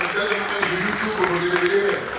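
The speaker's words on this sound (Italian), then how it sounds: "un applauso alla palazzina che ospita la serata" Applause at a beauty pageant evening held at a castle, with continuous crowd clapping mixed with voices and a sustained musical tone underneath.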